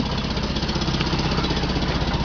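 A small Fiat 126p engine idles steadily at close range, a rough, even mechanical rumble with a rapid knocking pulse and no pauses.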